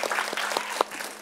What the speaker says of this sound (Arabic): تصفيق حار